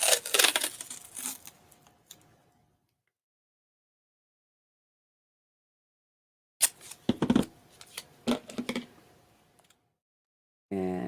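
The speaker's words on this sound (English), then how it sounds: "And we're just going to cut." Scissors cut through paper for an art journal, with close, crisp snipping in two bursts separated by a silent gap.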